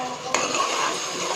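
A spoon stirs mint-ginger paste into onion and tomato frying in a pan for chicken gravy, giving a scraping stir with a sharp clink at the start over a low, constant sizzle.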